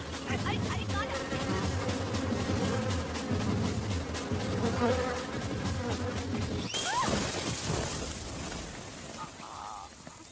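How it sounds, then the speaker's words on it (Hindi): A honeybee buzzes close by, its steady drone running for several seconds before cutting off, followed by quieter background and a brief tone near the end. "भागी है या मक्खी नहीं मधुमक्खी है?"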